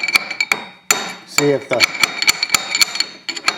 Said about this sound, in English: stick it in there and hit it with a hammer